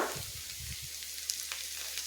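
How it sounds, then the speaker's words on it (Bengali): Ginger-garlic paste frying with browned onions in a pan for potato curry gives a faint, steady sizzle with a few soft stirring sounds near the start. "এটাকেও ভালো করে আমি ভেজে নেব পেঁয়াজের সাথে"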